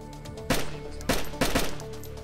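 Three sharp gunshots ring out in DayZ Standalone, spaced roughly half a second apart over a steady low background hum, loud and close with no talking.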